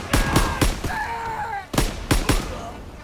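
Gunfire in Call of Duty WWII at the Rhine erupts in sharp, loud bursts of several rapid shots, a short pause, then another quick volley, with faint background voices in the mix.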